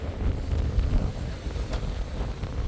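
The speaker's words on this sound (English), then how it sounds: "it is really, really windy, and I'm pretty sure the audio is going to be terrible" Gusting wind buffets a microphone at a Prestatyn caravan park, with low rumbling thumps and uneven rushes that swell and ease over a few seconds, and no voices.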